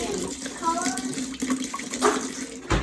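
Water is poured into a bottle as part of a children's science experiment, a steady running, splashing flow with a rising gurgle, partly under the voices of an adult and someone talking.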